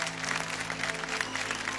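An audience claps for a Manipuri folk singer on a televised stage, brief steady applause layered over sustained background music.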